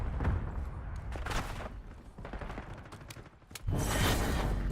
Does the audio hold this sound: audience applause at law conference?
no